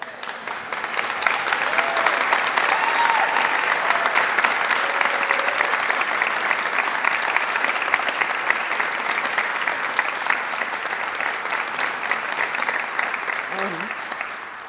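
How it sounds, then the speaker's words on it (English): A large audience at a police cadet graduation ceremony gives sustained applause, dense, even clapping that builds quickly, holds for over ten seconds, and tapers off near the end. "giving a round of applause to my parents and to every single person here who has been there for me"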